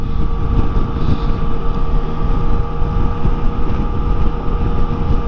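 Yamaha Tracer 9 three-cylinder motorcycle engine at about 3,000 RPM in sixth gear while riding, a steady loud drone with heavy wind rumble that runs without a break.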